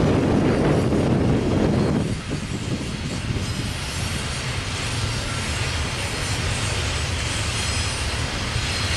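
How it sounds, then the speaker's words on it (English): CN freight train 112 on the York Subdivision near Doncaster Diamond rolls past with a loud, steady roar of rail cars and wheel rumble, a heavier passing surge in the first two seconds, then a continuous grinding drone. "Trains like CN 112 in this clip here take the West Y at Doncaster Diamond."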